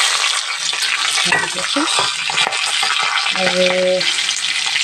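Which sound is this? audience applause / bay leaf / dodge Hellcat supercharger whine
bay leaf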